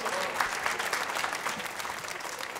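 An audience at a talk-show forum applauds the women's team of 1. FC Union, with dense, continuous clapping from a crowd that stays fairly steady throughout.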